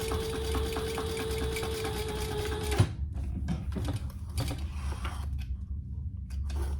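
Close by, a sewing machine chain stitches handbag pieces in a steady mechanical whir for nearly three seconds. It halts with a sharp clunk, then quiet handling noises and low hum follow with no speech.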